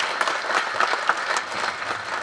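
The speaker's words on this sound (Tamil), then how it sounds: "இந்த நேரத்தில் கருணா சாருக்கு நல்ல மிகப்பெரிய கரகோஷம் கொடுங்க, இந்த அரங்கமே அதிர மாதிரி கொடுங்க" A theatre audience at a film trailer launch bursts into sustained applause for Karuna, a dense, steady wash of many hands clapping close by, with no talking over it.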